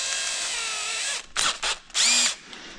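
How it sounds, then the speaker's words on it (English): A power drill bores through fiberglass and a metal bracket while a front splitter goes onto a 1999 Mustang, a steady whining run of about a second followed by several short, sharp bursts close to the microphone. "Looks like I'm drilling through the fiberglass and through this main bracket that I have put on."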